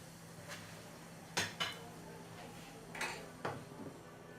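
A lid goes onto a pan of fried green chillies on the stove, giving a few close metallic clinks and clatters spread over a few seconds.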